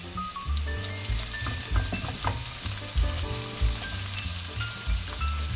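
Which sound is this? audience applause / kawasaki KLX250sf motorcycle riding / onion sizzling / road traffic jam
onion sizzling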